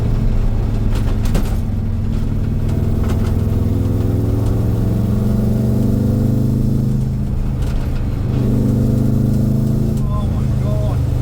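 Lifted VW Beetle Baja engine running while driving, a loud steady low drone with rising and falling pitch under someone talking.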